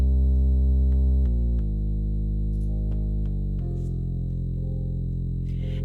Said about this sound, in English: So I've just got Sublab here on a preset that I've created called No Attack Sub